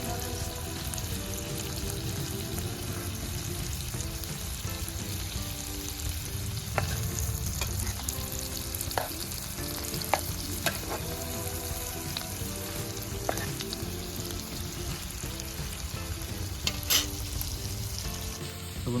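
Tomatoes and green chillies frying in a pan at an outdoor winter picnic, a steady, close sizzle with bursts of stirring and scraping clatter throughout, no talking.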